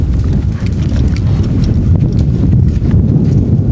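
Horse hooves clip-clop in a steady, fast rhythm as a dressage horse performs piaffe in an arena, loud and close with no talk.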